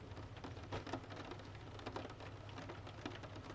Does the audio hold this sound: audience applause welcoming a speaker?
no